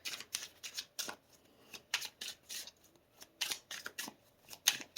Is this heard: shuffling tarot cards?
yes